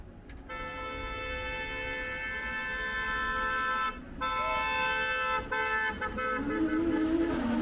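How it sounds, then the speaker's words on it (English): A car horn honks in a long sustained blare, briefly cut off and then resumed, from a driver forcing others aside on a street, fairly distant and under ambient traffic noise. "there's some jackass driving here where I don't think they're supposed to, just honking"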